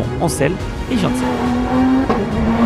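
Race cars pulling away at the start of a race at the Ledenon circuit, engines revving with a rising and falling tone under a commentator's voice.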